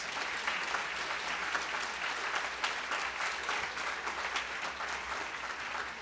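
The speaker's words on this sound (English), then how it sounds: "Let's give everyone who spoke today another round of applause." Sustained audience applause at a spring college convocation, a dense, steady wash of many hands clapping with no one speaking over it.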